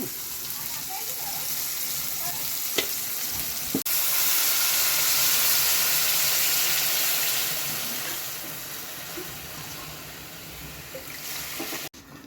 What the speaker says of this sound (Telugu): ఇదైతే ఉప్మా తాలింపు అండి,